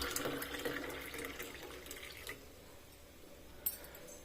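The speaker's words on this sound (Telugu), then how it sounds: "బాగా కలిపేసుకున్నాక ఇప్పుడు వాటర్ పోసేసుకుంటా" Water runs from a glass into a mixed cooking preparation, a soft splashing stream for about two seconds that then stops, leaving quiet room sound and one small clink.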